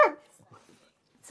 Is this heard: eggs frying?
no